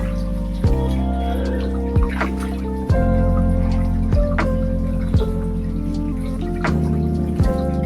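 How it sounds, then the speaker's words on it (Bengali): Water arriving and running from a household tap, a steady trickling splash with scattered drips and knocks, close by and moderately loud, with no one speaking. "জল চলে এসছে"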